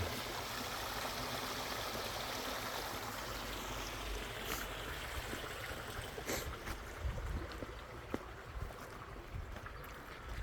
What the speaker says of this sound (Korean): 지금 논에 아직 물이 덜 빠져서 물을 지금 더 빼고 있어요.